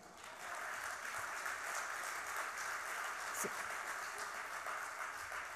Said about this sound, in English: All this applause goes to that anonymous sculptor